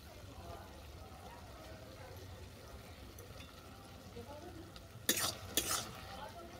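Mustard paste is stirred into water spinach cooking in a pan, with a soft, low sizzle under quiet stirring, then two sharp scraping clatters of the utensil against the pan near the end.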